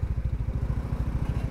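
A motorcycle engine chugging in a steady, regular low pulse while riding over a slippery clay road, close and continuous with no talk.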